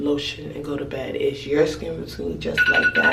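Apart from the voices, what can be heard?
phone alarm ringing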